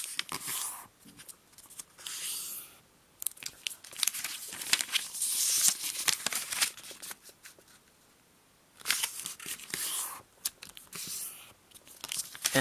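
Sheet of notebook paper folded for origami, creased in half along both diagonals: close, crisp crinkling and rustling comes in bursts, with quiet pauses between the handling.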